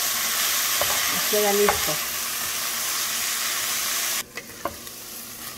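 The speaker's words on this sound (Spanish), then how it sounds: "Ahora sí que se fría, que se sofría un poco la cebolla" Onion fries in a pan with shrimp and vegetables and a splash of soy sauce, giving a steady close hiss of sizzling that suddenly drops away near the end, with a brief spoken phrase and a few stirring clinks.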